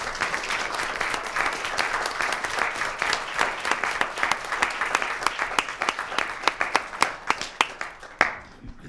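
A school board meeting audience gives a sustained round of applause for exemplary employees, dense clapping from many hands that thins into a few louder, separate claps at the end.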